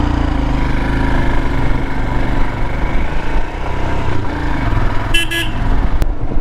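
A new Royal Enfield Himalayan motorcycle engine runs close and loud at modest revs with a steady throbbing rumble, and a brief high beep near the end.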